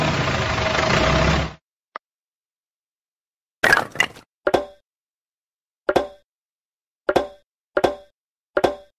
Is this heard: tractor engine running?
yes